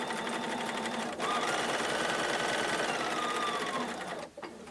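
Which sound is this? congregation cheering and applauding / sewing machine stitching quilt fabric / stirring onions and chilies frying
sewing machine stitching quilt fabric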